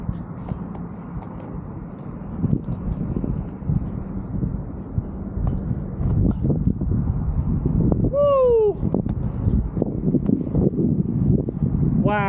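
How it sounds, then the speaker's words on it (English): Heavy wind buffets the microphone with a constant low rumble and gusty roar throughout, plus a brief whistling tone partway through. "Oh, so windy. Can't even talk right now."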